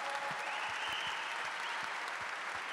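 Faint, distant applause from an audience at a youth plenary session, a soft continuous wash of clapping with no speech over it.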